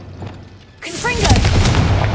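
A Confringo spell in Hogwarts Legacy, cast in combat, lands as a sudden loud blast with rumbling, crackling debris. A voice shouts just before the blast.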